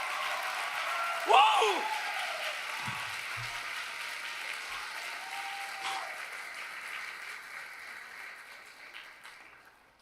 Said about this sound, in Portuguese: Aplauda, pelo amor de Deus.